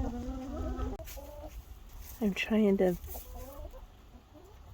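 A chicken clucks nearby in repeated short calls, with a person speaking over part of it.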